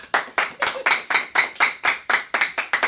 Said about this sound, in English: So I think we should clap now.